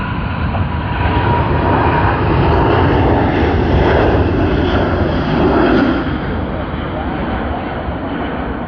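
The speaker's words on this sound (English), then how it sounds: "China Eastern, another beautiful A350 to Shanghai." A China Eastern Airbus A350 departs Sydney Airport for Shanghai, a loud, dense jet roar that surges midway and stays strong throughout, with occasional talk beneath it.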